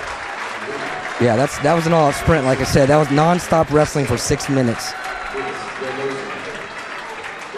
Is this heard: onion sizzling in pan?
no